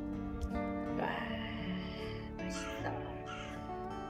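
Crows caw loudly a few times in quick succession, with a low continuous background murmur throughout.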